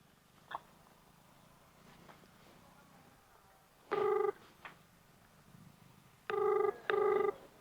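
A telephone rings in short electronic bursts, one near the middle and two more close together at the end, over quiet room noise.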